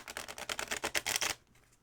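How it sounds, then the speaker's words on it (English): A tarot card deck is riffle shuffled, giving a quick, close run of crisp flapping clicks that builds into a dense ripple for about a second and a half, then stops abruptly. "I'm going to try to shuffle one more time, riffle style."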